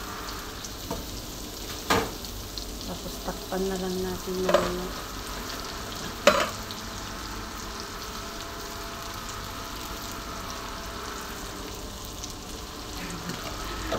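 Continuous sizzling of onions frying in a pan, with a few clinks and scrapes of a utensil and a person speaking briefly.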